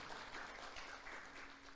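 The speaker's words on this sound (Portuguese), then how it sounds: "Você pode aplaudir ao Senhor?" A church congregation applauding during a sermon, a brief, faint, continuous patter of clapping from many hands, heard at a distance with no talk over it.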